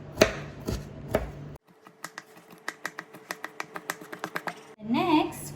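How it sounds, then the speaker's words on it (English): A knife chops ginger into small pieces on a cutting board, a quick run of crisp, evenly spaced taps close up, with a voice talking briefly before and after the chopping. "Now we're going to cut the ginger into small pieces."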